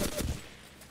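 A short burst of gunfire in the video game Ace of Spades, a rapid few loud shots that quickly trail off.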